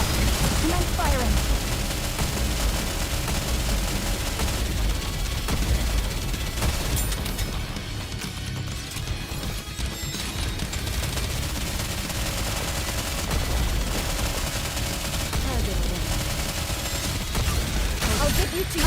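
Sustained volleys of rapid gunfire from the video game Nikke fill the scene, dense and continuous with occasional heavier booms, loud and close with in-game voices talking over it.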